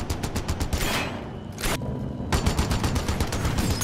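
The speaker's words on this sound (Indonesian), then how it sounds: "Tembakan yang dilepaskan Orso tidak mempan sama sekali" Rapid bursts of gunfire from an action film fight scene, dense repeated shots with a short lull in the middle before the volley resumes, loud and continuous.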